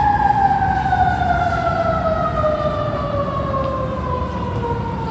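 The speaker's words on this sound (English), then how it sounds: "You can hear those federal sirens coming." A wailing fire truck siren sounds loudly and then slowly drops in pitch as it moves past, over a steady rumble of engine and street noise.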